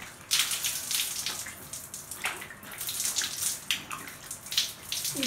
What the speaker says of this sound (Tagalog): So, pagbabanlaw natin ay malamang tubig ulit.